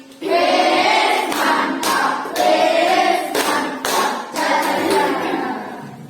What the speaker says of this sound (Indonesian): Kita beri tepuk apresiasi.